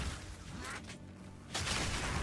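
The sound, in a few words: spell explosions in the video game Path of Exile 2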